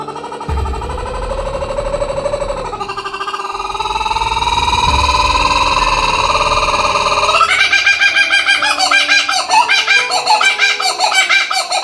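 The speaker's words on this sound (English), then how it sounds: "Kookaburra." A kookaburra calls loudly and close, its rising cackling laugh building into rapid, rhythmic hooting bursts that intensify toward the end.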